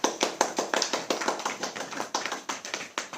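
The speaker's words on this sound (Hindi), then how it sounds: "ताली हो जाएगी।" A live audience claps at a Hindi Christian sermon, a quick run of sharp, evenly spaced claps, close and fairly loud, with no talking.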